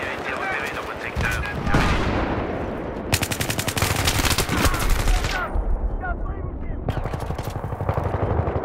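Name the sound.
sniper shooting at player in Battlefield 3 video game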